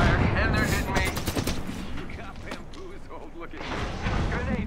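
Gunfire in the video game Apex Legends, rapid bursts of automatic shots with clattering mechanical effects, loud and close, while voices talk over the action.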